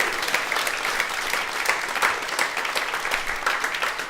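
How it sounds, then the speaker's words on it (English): Steady, dense audience applause at a live stand-up comedy show at the Pleasance, filling the room continuously at a constant level with no talk over it. "Give her a round of applause"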